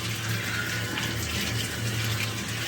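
Shower water runs steadily and loudly close by, a continuous broadband hiss with a low hum underneath and no voices.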